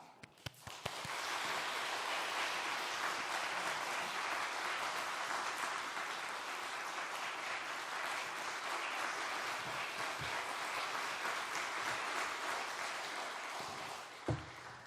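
A church congregation gives a long welcoming round of applause for visiting missionaries. The clapping is steady, dense and moderately distant, rising quickly after a few scattered early claps and holding evenly before tapering at the end.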